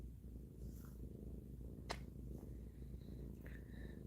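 A cat purrs steadily and softly close by, a continuous low rumble through the whole stretch with a couple of faint clicks and small household sounds on top.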